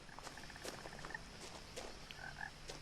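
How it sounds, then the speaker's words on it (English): Frogs croak quietly in the woods around a house in the video game What Remains of Edith Finch, a faint repeated trill and scattered chirps over soft ambient water and night noise, with no talk. "The sounds, the frogs, the water."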